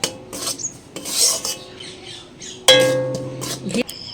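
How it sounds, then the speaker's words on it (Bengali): Wheat flour dough frying in ghee is stirred in a pan, producing rough scraping and rasping strokes in uneven bursts, close and fairly loud, with a steadier sizzling stretch toward the end. "এইভাবে মেশাবো আর ভাজতে থাকবো, নাড়তে থাকবো"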